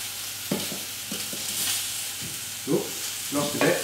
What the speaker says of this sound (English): You're going to add a handful of washed spinach straight into the pan. Keep stirring that through.